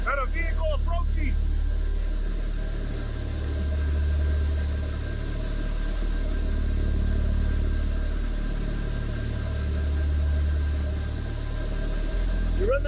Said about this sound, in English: Got a vehicle approaching.